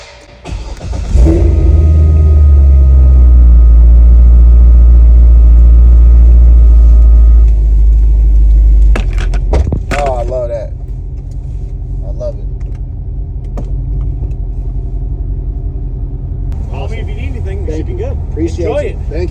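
Corvette C6 fitted with Kooks headers, an X pipe, Halltech Killer Bee intake, CORSA Extreme exhaust and a tune starts with a loud deep rumble, revs, then settles into a throaty idle while people talk nearby.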